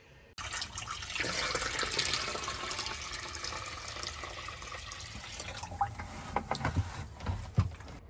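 Water rushes and gurgles steadily into an RV toilet being flushed with Happy Camper treatment, a continuous close splash followed by dripping, trickling and a few clunks near the end.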